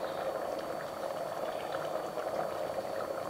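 Steady, soft bubbling of water for mushroom biryani at a rolling boil in a pressure cooker, continuous and even throughout.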